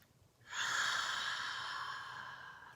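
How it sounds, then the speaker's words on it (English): A long, audible breath out during a slow, deep breathing exercise, starting abruptly and holding steady as a breathy sigh for about two seconds before slowly fading, close to the microphone with no talking. "You can make a noise when you exhale as well."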